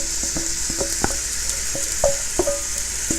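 Tomatoes, potatoes and onions sizzle steadily in heated light olive oil in a pot over medium heat, with a constant bright fry hiss and scattered clinks and scrapes of stirring.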